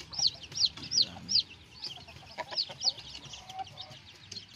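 Newly hatched purebred straightcomb chicks and chickens, with repeated high peeping calls and soft clucks close by, with someone talking quietly underneath.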